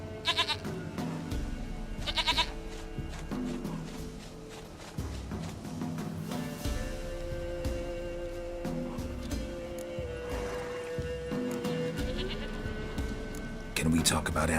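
Repeated goat bleats in The Witcher 3, several wavering calls spread through the stretch, close and fairly loud, mixed with speech and ambient game sounds.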